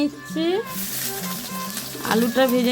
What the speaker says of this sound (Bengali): আলুটা এবার ভেজে